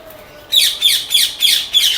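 A breeding pair of exotic parrots lets out five loud, harsh squawks in quick, even succession from close by, with no talking over them.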